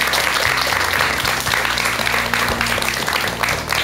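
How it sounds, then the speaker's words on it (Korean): Studio audience applause fills the room, steady and dense for a few seconds, with a low musical tone running underneath. "우리 전현수 박사님께 큰 박수 좀 부탁드리겠습니다"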